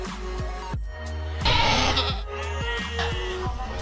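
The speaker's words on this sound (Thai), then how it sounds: "ได้ยินเสียงแพะละ" Goats on a goat farm bleat repeatedly in short, wavering calls, several overlapping at close range against a low background hum, with no talk.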